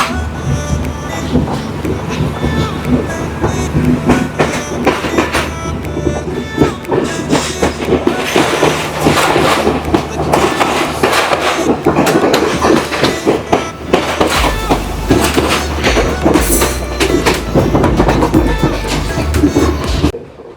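A train from Colombo to Galle in Sri Lanka rolls along the rails nearby with a continuous loud rumble, rhythmic clickety-clack of the wheels, and occasional squeals.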